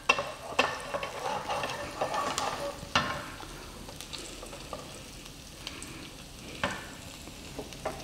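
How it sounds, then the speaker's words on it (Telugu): Garlic sizzles and fries in a pan, with a steady crackle broken by several sharp clinks and scrapes of stirring, fairly quiet and with no voices. "గార్లిక్ యాడ్ చేసిన తర్వాత గార్లిక్ కొంచెం ఫ్రై అయ్యేలాగా ఫ్రై చేసుకోండి"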